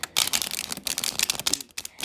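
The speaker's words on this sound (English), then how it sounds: "when you don't shuffle, people don't believe that you are really pulling these cards. So you got to shuffle." Tarot cards are shuffled close to the microphone in crisp, rapid riffling bursts with brief pauses, during a crystal love reading.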